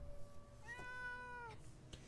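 A single drawn-out cat meow rises and falls, clear and fairly close, over a quiet low background hum.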